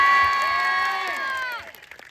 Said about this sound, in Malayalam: പഠിച്ച ഫ്ലെമിങ്സിന് ആദ്യം ഒരു വലിയ കയ്യടി